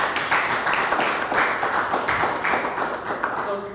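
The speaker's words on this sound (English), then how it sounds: "Round of applause, thank you." Audience applause at a Bitcoin developers' seminar after a technical talk, a fairly small crowd clapping steadily for several seconds with uneven, overlapping claps.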